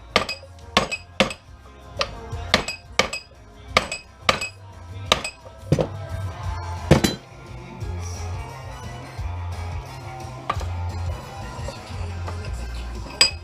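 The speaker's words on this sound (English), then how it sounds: "I'm going to loosen it up with a hammer a little bit." A series of sharp metallic hammer strikes loosening a part on a fluorescent light fixture held in a vise, about a dozen evenly spaced ringing blows, then scattered taps against a low background hum.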